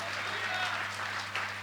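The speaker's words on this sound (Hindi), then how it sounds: "क्यों ना प्रभु के लिए ताली बजाए" Church congregation clapping in a sustained burst of applause, steady and fairly loud throughout, with hum and voices mixed in beneath the clapping.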